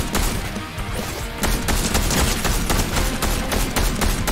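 Rapid Fortnite gunfire, a dense barrage of loud shots and bursts with booming impacts, continuous and close.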